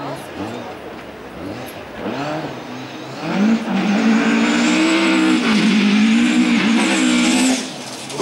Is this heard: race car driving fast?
yes